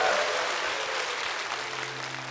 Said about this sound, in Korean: 두 분께 힘찬 박수 부탁드리겠습니다.